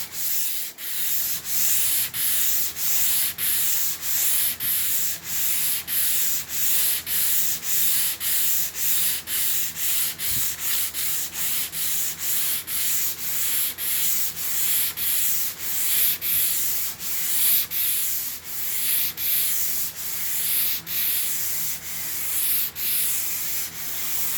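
Sandpaper rubbed by hand across a wooden table stripped of its finish, a steady close scratchy hiss in rapid back-and-forth strokes that runs continuously with no talking.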